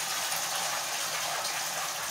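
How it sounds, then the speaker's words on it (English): Water runs hard from a tap over rice being washed and strained, a steady broadband gush that stays loud and unbroken throughout. "I'm gonna wash this rice, strain it off."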